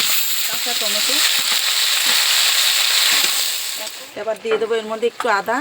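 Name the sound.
vegetables frying in oil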